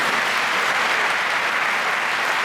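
Dense, continuous applause from a church congregation at a Catholic retreat in Bergerac, France: a full wash of many hands clapping at once, loud and unbroken throughout.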